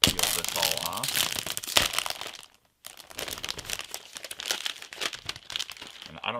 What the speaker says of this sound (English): Let's go ahead and peel this all off.